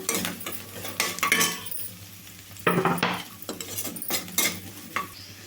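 Carrot and bean pieces fry with onion and green chilli in a pan, a steady close sizzle broken by repeated scraping stirs of a metal spoon against the pan.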